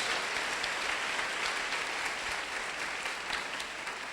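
A church congregation applauding, a dense continuous wash of many hands clapping that stays steady throughout, with no voices above it.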